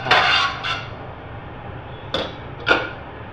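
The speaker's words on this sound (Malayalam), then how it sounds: "നമുക്കൊരു പാത്രം കൂടി എടുത്ത് വെക്കാം" A plate is handled and set down in a home kitchen while an egg white omelette is served, giving several sharp ceramic clinks: two close together at the start, then two more after a short pause, loud and near.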